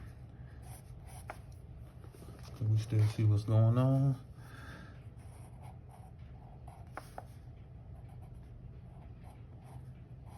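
A pencil scratches and scribbles softly across paper close up, continuing throughout, with someone briefly speaking partway through.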